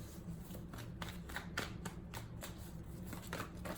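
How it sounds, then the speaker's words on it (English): Tarot cards are shuffled and pulled in a quiet room, a series of soft, close riffling and sliding bursts repeating in quick succession, with no talking. "Let's pull one more card for the energies."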